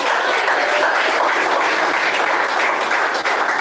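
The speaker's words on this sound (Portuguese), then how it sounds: "Quem bate palmas?" Congregation applause fills a church during a sermon on baptism: a dense, steady wash of many hands clapping together, loud and continuous with no break.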